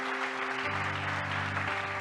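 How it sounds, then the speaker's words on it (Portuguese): Church congregation clapping in praise during a sermon, a steady wash of applause under a sustained low organ or keyboard chord, moderately distant and even in level throughout. "Você pode dar um aplauso a Jesus"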